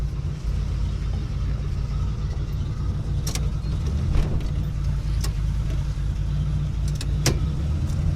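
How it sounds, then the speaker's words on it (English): A 1977 Buick Century fitted with a 750 CFM Edelbrock carburetor runs and drives, its engine a steady low rumble from inside the car with a few faint clicks and knocks over it. "Runs, drives, much better than used to."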